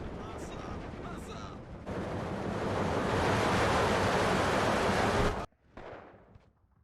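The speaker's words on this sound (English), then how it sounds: "Big bombing strike there." Heavy bombing strike in the Steel Division 2 strategy game: a sustained, loud roar of massed explosions that builds and rumbles for several seconds, cuts off abruptly, then leaves a fainter fading blast and debris wash.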